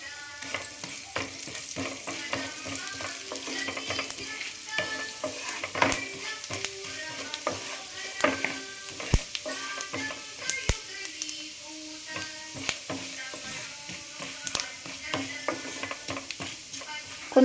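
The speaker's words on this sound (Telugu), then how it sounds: "కొంచెం బ్రౌన్ కలర్లో వచ్చే వరకు వేయించుకోవాలి" Urad dal and cumin seeds fry in a pan for a bitter gourd and onion curry, with a soft steady sizzle broken by frequent scraping stirs and clinks of a spoon against the pan.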